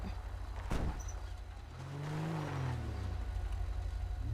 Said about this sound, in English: let me take this car